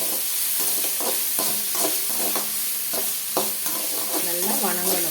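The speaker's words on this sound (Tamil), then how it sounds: "வெங்காயத்தையும் பச்சை மிளகாயும் போட்டு நல்லா வணக்கணும்." Small onions and green chillies sautéed in a pan for a greens dish, a steady frying sizzle broken by repeated scraping strokes of a spoon stirring against the pan, close and clear, with no talk.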